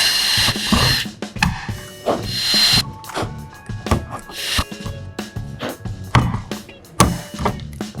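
A power drill bores holes in a car hood for hood pins, with loud, uneven bursts of drilling broken by clanks and handling knocks close to the mic.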